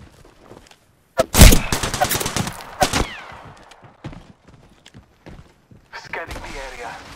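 Gunfire in the Apex Legends video game, with a loud burst of rapid shots up close, then scattered later shots and footsteps, mixed with in-game voice chatter.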